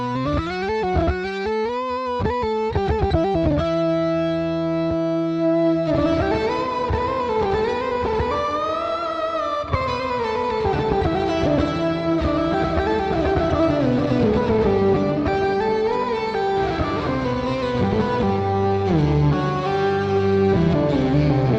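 A bass guitar plays a continuous riff through a Line 6 HX One effects unit with Kaamos distortion. The tone is thick and gritty, with sustained notes and bends, loud and alone throughout.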